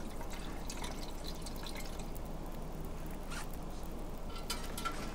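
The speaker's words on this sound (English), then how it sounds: "Add the water over here." Water dripping and trickling as it is added in The Long Dark, a steady run of faint, small liquid drips and splashes close by, with no voices.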